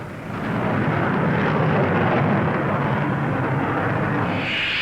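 Avro Vulcan jet bomber passing overhead at Farnborough in 1950, a loud, steady broadband roar of jet engines that swells in quickly and holds throughout without speech.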